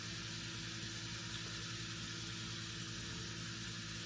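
Onion and garlic frying in a pan for a cabbage casserole, giving a steady, even sizzling hiss that stays constant and fairly soft throughout, with no voices.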